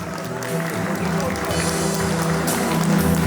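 Guests at a wedding celebration give steady, crowd-wide applause that carries on throughout, with a voice speaking over the clapping.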